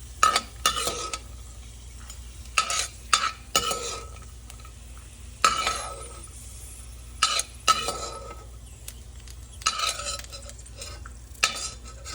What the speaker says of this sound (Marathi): आता आपले शेंगदाणे छान तळून झालेले आहेत